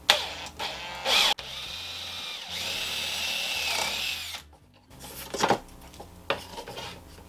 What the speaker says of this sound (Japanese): ジグソーの刃が入るところに穴を開けて刃が入るようにしておきます